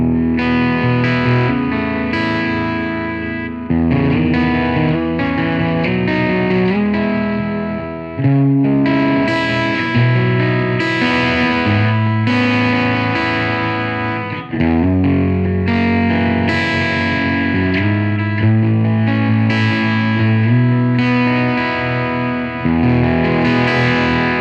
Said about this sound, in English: I've switched over to a D'Angelico XL59 in open E for some nice P90 grit.